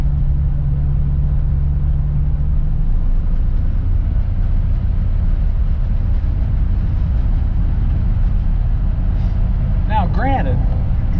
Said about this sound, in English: Hear the muffler rattling a little bit